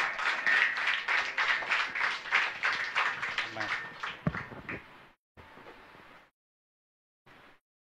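Church congregation clapping loudly and rhythmically during live worship, with voices over the clapping, fading into short scattered bursts and pauses toward the end.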